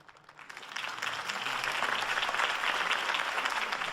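Crowd applause follows a mayoral campaign speech in a Batman video game scene, starting quietly then swelling into a full, even roar of clapping that holds to the end.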